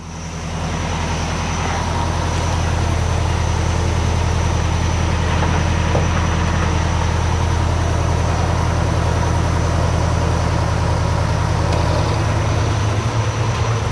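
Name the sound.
International Scout truck engine running and driving off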